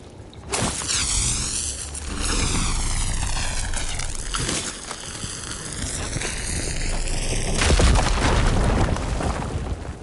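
A fire gleam blown up in Horizon Forbidden West: a loud booming blast with roaring, rising machine-like tones sweeping through, sustained for several seconds and swelling again near the end.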